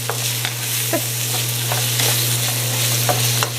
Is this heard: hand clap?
no